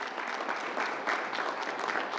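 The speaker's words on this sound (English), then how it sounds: "Charlie King, let's give him a big round of applause" Steady, dense applause from an audience at a New York coronavirus press briefing held by Governor Andrew Cuomo, a continuous wash of clapping with no break across the short stretch.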